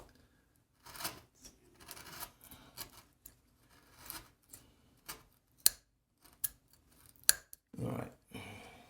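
A blade scoring a cut in wood while shaping a pyramid-shaped border profile gives short, quiet scraping strokes in an irregular rhythm, with a few sharp clicks between them.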